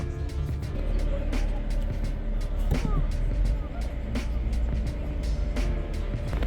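A car at a transmission shop, apparently a Honda CR-V, reversing slowly into a parking spot: a steady low engine hum with rumble and light clunks, a voice speaking briefly over it.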